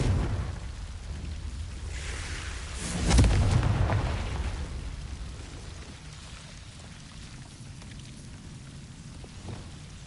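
A magical Confringo fire spell explosion in Hogwarts Legacy, a loud burst that swells into a rumbling roar before fading to a crackling, rain-like wash.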